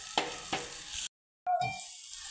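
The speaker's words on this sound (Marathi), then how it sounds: "आता कांद्यामध्ये हळद आणि चटणी टाकलेली आहे." Sliced onions sizzling and being stirred in a pan with turmeric and chutney while fish curry is cooked: a steady bright hiss with a few scraping stirs, a brief silent gap, then the sizzle resumes.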